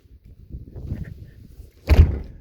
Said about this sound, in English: let me shut the door so you can see what it looks like from the outside